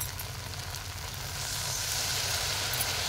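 Water poured into a pan of frying spices with mustard paste, turmeric and salt, giving a loud, steady, close sizzle that runs continuously and grows a little fuller partway through, with no talk.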